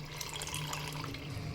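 Water pours steadily into a pressure cooker holding rice for chicken biryani, a continuous close, fairly quiet gushing stream with no talk over it.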